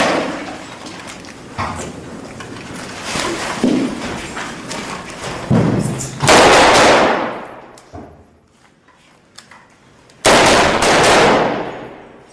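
Gunfire in a combat setting, rapid bursts of shots cracking and echoing, loud and close, with a quieter lull between heavy volleys.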